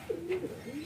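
A racing pigeon at a loft gives a short, close, soft coo, a low warbling call under a second long, with no talking over it.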